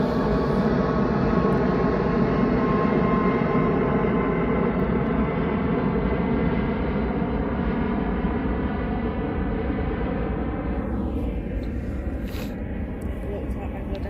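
A Bangladesh airliner powers up for takeoff at Manchester Airport, its engines a loud, steady roar that holds throughout and slowly eases off toward the end, with voices chatting over it.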